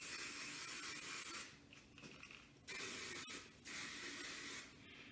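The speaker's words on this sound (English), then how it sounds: "Now again, taking my hairspray." Hairspray from an aerosol can hisses onto hair for beach waves in several separate bursts of steady spray, close and fairly loud, with short pauses between them.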